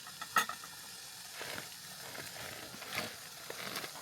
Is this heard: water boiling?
yes